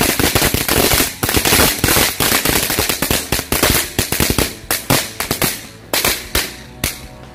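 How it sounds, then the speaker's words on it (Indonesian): A dino egg firecracker (mercon telur dino pretek) bursts in a long rapid string of sharp loud cracks, crackling close by and thinning into spaced pops toward the end. "selanjutnya kita nyalakan mercon telur dino pretek"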